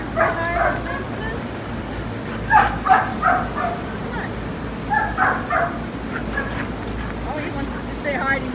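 A boxer-mix dog yips, barks and whimpers in short clustered bursts at moderate distance, with soft human voices murmuring underneath.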